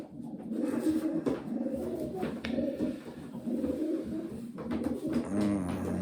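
Breeding pigeons coo continuously in low, throaty warbles, several birds overlapping close by, with faint rustling and clicks in the background.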